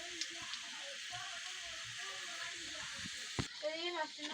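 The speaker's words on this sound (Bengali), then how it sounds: "ডালটা বাগার দিয়ে দিছি চুলায়" A dal tempering sizzles in oil on a stove, a quiet steady crackle with soft clatter and a brief louder burst near the end, low background voices faintly present.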